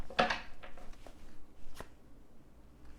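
Tarot cards being shuffled by hand, a few brief riffles and soft flicks at close range, with quiet gaps between them and no talk.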